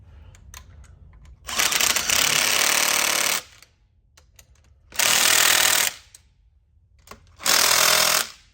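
A pneumatic impact wrench rattles bolts on the turbine housing of a 730hp Detroit truck engine, firing in three loud, harsh bursts of about two seconds, one second and one second, with quiet clicks and shuffling between them.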